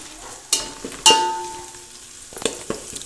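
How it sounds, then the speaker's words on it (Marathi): Garlic and turmeric fry in hot oil for a village-style chicken curry, giving a steady close sizzle broken by a few sharp stirring clinks against the pan, with no talking. "आपला लसूण चांगला मस्त भाजून घ्यायचा तेलामध्ये"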